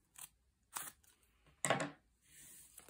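Scissors cut origami paper for a reindeer head in three quick, crisp snips spaced apart, faint and close in a quiet room.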